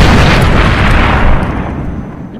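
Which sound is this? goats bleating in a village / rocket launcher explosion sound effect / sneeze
rocket launcher explosion sound effect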